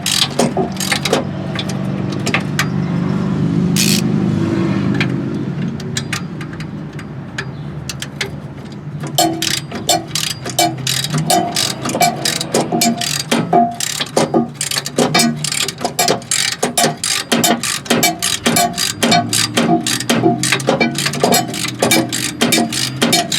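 A crow's foot wrench works a loosened brake line fitting out on a 2001 Dodge Dakota SLT: first a low mechanical rumble, then a long run of rapid, close metallic ticks and clicks as the fitting turns.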